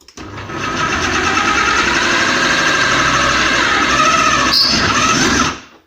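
KitchenAid 2.1-litre food processor grating Emmental cheese: a loud, steady motor whine with grinding rattle runs for about five seconds without pause, then winds down and stops, with no talking.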